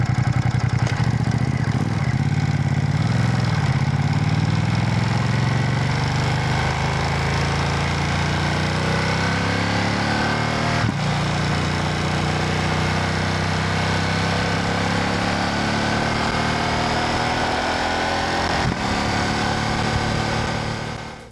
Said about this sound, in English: The signature throaty and guttural sound of a Ducati V-twin is very much present.